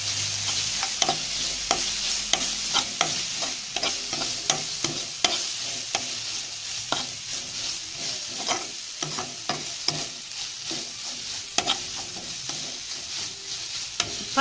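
Ginger garlic paste sautés in a pan with a continuous sizzle and frequent irregular spatula scrapes and taps, close and alone.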